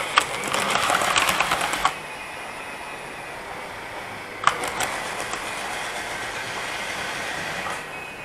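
A model railway train runs with a whirring, clattering rush that fades after two seconds, then picks up again with a sharp click and keeps going.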